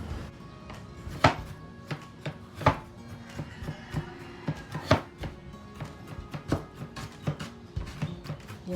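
Ingredients for fish morcon made with galunggong are chopped with a knife on a board, giving close, irregular taps and sharper chops in an uneven rhythm, with no voices.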